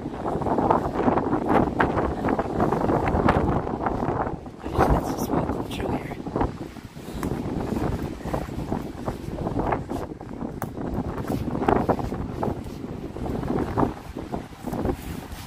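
Steady wind buffets the microphone throughout at Mount Jerome cemetery, a loud rumbling roar with gusts rising and falling, close and continuous.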